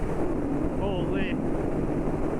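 Heavy wind buffets the microphone while a motorcycle rides on the highway, a loud continuous rumbling roar with a faint voice-like murmur briefly beneath it.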